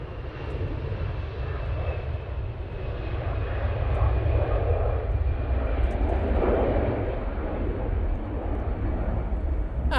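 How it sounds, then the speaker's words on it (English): Emirates Airbus A380 on final approach at Manchester Airport, a steady broad engine roar that swells slightly toward the middle and holds loud and continuous throughout, with no voices. "EK21's now on final. The Emirates A380."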